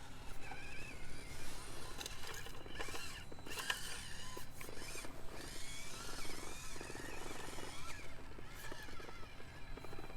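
An FMS FCX24 K5 Blazer RC crawler grinds over a rocky obstacle course, its small electric motor and gears whining faintly with scrapes and rattles, a low, steady mechanical drone throughout.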